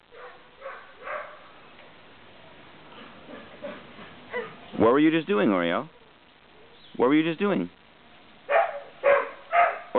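Dog barks come in a few short, separate bursts mixed with a person speaking nearby, and the talk continues between the barks.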